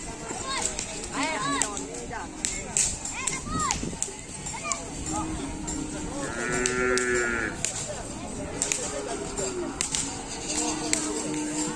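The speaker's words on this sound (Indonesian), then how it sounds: "Jadi ini suasananya teman-teman di Pulau Sapudi kalau kerapan sapi." A karapan sapi bull race on Sapudi Island: a busy outdoor crowd with many people talking and shouting, children's voices and occasional cattle calls carried through a steady din.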